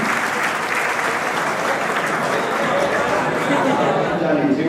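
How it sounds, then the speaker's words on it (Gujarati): A large audience at a school graduation ceremony for Standard 12 students claps loudly and continuously, a broad sustained roar of hands with faint crowd chatter mixed underneath. "એકવાર જોરદાર તાળીઓથી આ સૌનું અભિવાદન કરું છું."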